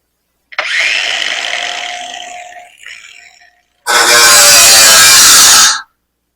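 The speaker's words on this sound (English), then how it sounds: "now I'm going to slice it here and weld it and hold it." Metal is sliced and welded with a power tool. A loud buzzing burst of about three seconds slowly fades, then after a short gap a second, harsher and steady burst of about two seconds ends abruptly.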